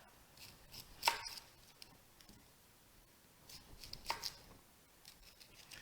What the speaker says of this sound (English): we'll go ahead and start cutting up our onion